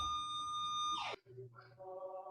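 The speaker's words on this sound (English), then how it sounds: "So loud my alarm went off here in Muller Manor." An indoor alarm sounds with a steady high-pitched electronic tone that cuts off abruptly, followed by a brief lower beeping pattern, all faint and close.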